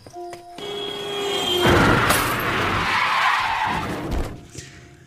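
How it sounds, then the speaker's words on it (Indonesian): A car skids with a rising tire squeal, then strikes a running man in a film scene: a loud broadband crash with a shattering burst, followed by a few seconds of rumbling noise that fades out. "Sampai di pinggir jalan, sebuah mobil menabrak tubuhnya."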